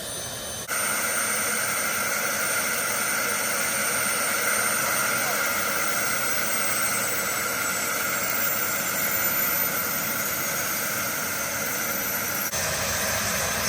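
Turbine engine of a Lama helicopter roaring steadily at idle as a loud broadband whine with high tonal components, then cutting off abruptly near the end, close and continuous.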